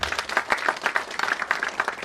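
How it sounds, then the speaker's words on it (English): An audience in a paid seminar or talk breaks into applause, a dense patter of many hands clapping in quick uneven bursts, moderately loud and close, with no speech over it. "Give me a round of applause."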